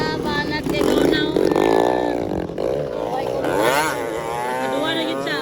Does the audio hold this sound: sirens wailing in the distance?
no